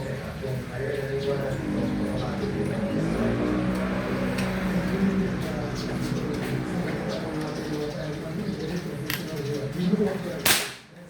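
Two sharp cracks of air rifle shots ring out near the end, a moment apart, following a long stretch of steady background noise and low murmuring.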